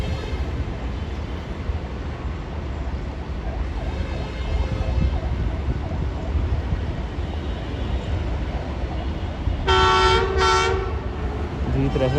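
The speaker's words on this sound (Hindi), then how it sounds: "तो 13 अप आवाम एक्सप्रेस आ चुकी है।" An Awam Express passenger train pulls into Drigh Road Railway Station, with a steady loud rumble of wheels and carriages throughout and two short horn blasts near the end.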